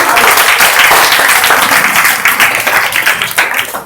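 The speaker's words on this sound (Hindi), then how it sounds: "बहुत बहुत तालियां बच्ची के लिए" An audience at an Ambedkar Jayanti community event in Kailash Nagar, Ghaziabad, breaks into loud, sustained applause for a young girl, dense clapping close by that slowly thins toward the end.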